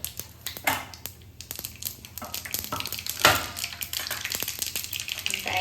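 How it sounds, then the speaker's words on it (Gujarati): Mustard seeds, about a spoonful, spluttering in hot oil in a kadai for Gujarati dal dhokli, giving quiet scattered pops and crackles with a few sharper bursts over a soft sizzle. "રાઈ ચટકવા લાગી છે"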